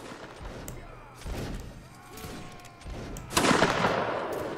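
Musket shots in Mount & Blade Warband Napoleonic Wars during a siege battle, two or three sharp reports at moderate distance, the last one loudest, over a background of battle din.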